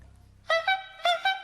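A voice imitates a squeeze horn, four short honking bursts in two pairs, close and clear after a quiet start.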